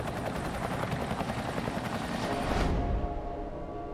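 A military evacuation helicopter lifts people off the rooftop of the American embassy in Vietnam, its loud, steady rotor thump chopping rapidly and close throughout, with the engine whine dropping away near the end.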